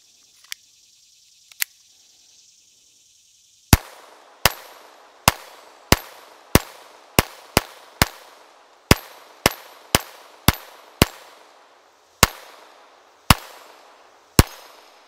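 Kel-Tec P17 .22LR pistol fired outdoors: two faint isolated shots, then a steady string of about fifteen sharp, loud cracks spaced roughly half a second apart, each with a short decaying tail.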